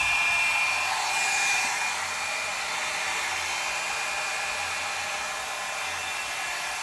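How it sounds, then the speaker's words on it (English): A warm hair dryer blowing steadily nearby, a constant airy whoosh with a faint tonal whine, slightly louder at the start and then holding level with no talking. "Got this hot lamp here and this warm hair dryer."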